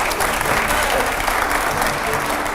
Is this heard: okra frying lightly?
no